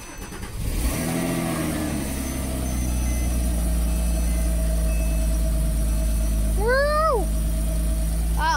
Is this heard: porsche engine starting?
yes